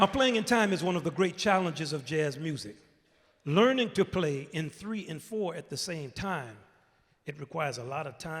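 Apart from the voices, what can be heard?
No distinct noise like a dog, phone or traffic.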